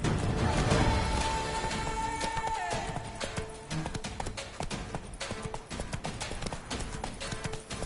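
Rapid hoofbeats of a galloping horse in the video game The Witcher 3 pound continuously over game ambience and music, close and loud, with a short pause in the middle before the gallop resumes.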